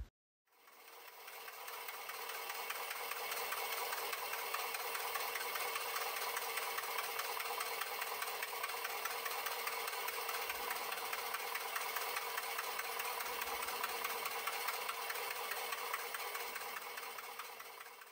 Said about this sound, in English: Let's listen to the sounds of a 637 cubic inch GMC V8 engine.